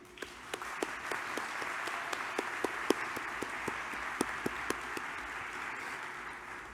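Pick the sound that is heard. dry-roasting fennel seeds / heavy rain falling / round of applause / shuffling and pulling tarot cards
round of applause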